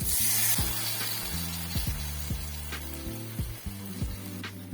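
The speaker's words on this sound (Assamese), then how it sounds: "ইমান মই চিকেনখিনিৰ ওপৰত ঢালি দিম।" Wine vinegar poured over pieces of chicken gives a steady, soft hissing splash that runs the whole time, over a tonal musical background.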